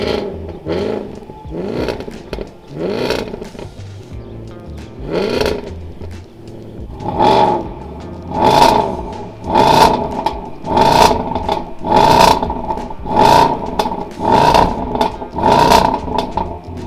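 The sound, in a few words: car engine running and revving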